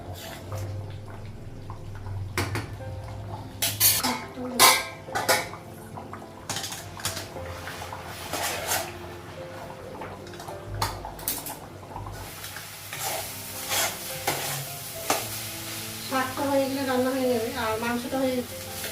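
Mutton masala stirred in a pot on a gas stove brings repeated close clanks and scrapes of a spoon against metal over a faint sizzle, with a voice talking at times.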